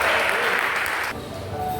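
A church congregation claps together in a full burst of applause during a Portuguese sermon, then cuts off abruptly partway through, leaving quieter room sound and a voice.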